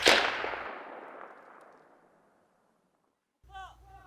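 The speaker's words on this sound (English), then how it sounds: "Along with the sharp gunshots, the soldiers hit the enemy's mark with accuracy." A single sharp gunshot cracks close by during special forces winter training and its echo rolls away over two seconds, followed by silence and then a brief voice.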